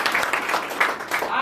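An audience at a Rootpure India join call in Balotra, Rajasthan claps together in a dense, fairly loud burst of applause lasting over a second, mixed with some vocal noise.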